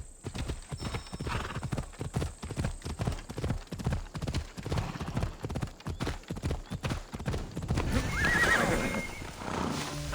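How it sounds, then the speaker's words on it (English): A sturdy horse gallops with a fast, steady clip-clop of hooves throughout, then lets out a loud whinny near the end, in the video game Assassin's Creed Odyssey. "Looks like a sturdy horse."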